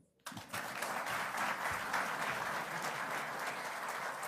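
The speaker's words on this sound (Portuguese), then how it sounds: "vamos aplaudir o Marcos Beltrão" After a brief silence, an audience at a swearing-in ceremony for Brazil's new tourism minister, Marx Beltrão, breaks into applause that starts abruptly and keeps going as dense, sustained clapping.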